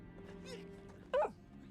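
A dog in the Little Orpheus video game gives one short, sharp bark after a softer whimper, over quiet game ambience and faint background talk.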